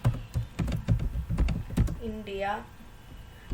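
A few quick clicks of typing on a computer keyboard, close and irregular, followed by a short rising electronic whine.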